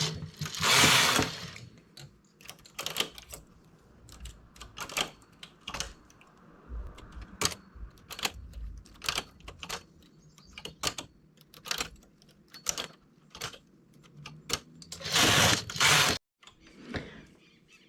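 Knitting machine being worked by hand for cable stitches, irregular sharp clicks and clacks with scraping carriage passes and latch-needle rattles, close by, in uneven bursts separated by short pauses.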